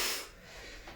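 A single forceful exhale during a reverse crunch workout, a breathy rush of air loud at first and fading, with a softer breath trailing after.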